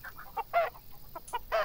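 Chickens cluck in the Farm Manager 2021 farming game: a run of short, close, sharp clucks and squawks with uneven gaps, alone and without talk.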